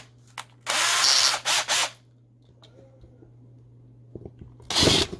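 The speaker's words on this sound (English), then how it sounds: "let's go ahead and drill out that window unit very carefully" A small drill bores out the rivet holding the window unit of a die-cast Matchbox No. 36 Opel Diplomat toy car, two close bursts of whirring with a steady hum between, then a final short burst after some faint clicks.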